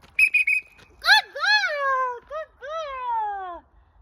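Three short, sharp dog training whistle blips during recall training, followed by several high, sweeping wavering calls.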